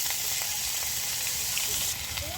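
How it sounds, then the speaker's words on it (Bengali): Grated ginger sizzles in hot mustard oil in a pan, a steady dense frying hiss with faint crackles running throughout and no voice over it. "আদাটা তেলের মধ্যে ছিটকাবে, দিলে তেলটা ছিটকিয়ে চারধারে হবে"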